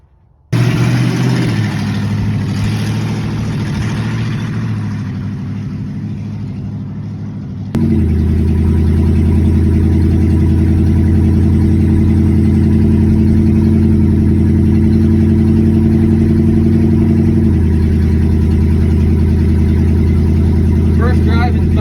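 A 1972 Chevrolet C10 pickup with a 350 V8 runs steadily on the road, its engine a loud, continuous drone that steps up in level and holds, then eases slightly near the end.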